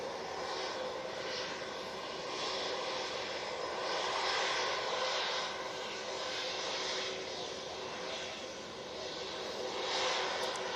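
A Hainan Airlines jet airliner in peony livery sits in the background at Manchester Airport, its engines giving a steady, distant roar that swells and eases gently.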